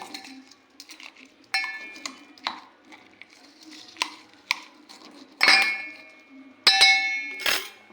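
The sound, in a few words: mixing Maharashtrian eggplant bharit in a bowl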